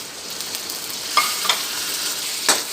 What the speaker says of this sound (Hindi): अभी हम इसके अंदर कीमा शामिल कर रहे हैं